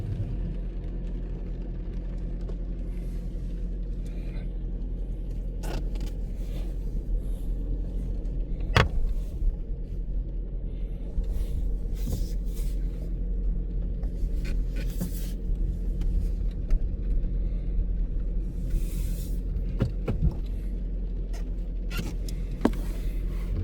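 A car driving on a rainy day, heard from inside the cabin: steady low road and engine rumble throughout, with occasional small clicks and rattles, no talk.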